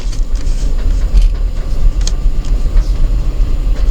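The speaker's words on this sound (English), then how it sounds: "You know the sound of this truck, don't you, Milo?" An old pickup truck drives down a street, giving a loud, close, rough engine rumble that continues steadily and unevenly throughout.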